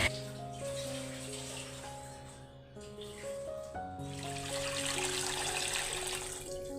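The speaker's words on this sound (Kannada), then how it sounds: "ಹಾಗೆ ಪೂಜೆ ಪಾತ್ರೆಗಳಿಗೆ ಸ್ವಲ್ಪ ನೀರು ಹಾಕ್ಕೊಂಡು ಈ ರೀತಿ ಕುಂಕುಮ ಎಲ್ಲ ಇಟ್ಟಿರ್ತೀನಲ್ಲ, ಅದನ್ನೆಲ್ಲ ಫಸ್ಟ್ ತೊಳ್ಕೊಂಡು" Water poured over puja vessels to rinse off kumkum, a continuous splashing flow with a ringing metallic tone as it strikes the pots, growing fuller toward the end.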